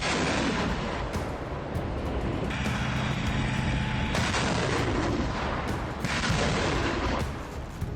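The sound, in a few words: artillery fire in Russia-Ukraine war footage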